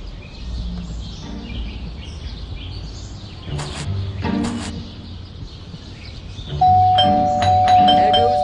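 Doorbell in the video game Scary Teacher 3D, a ringing chime that cuts in clearly near the end after softer thuds and game ambience, loud and close.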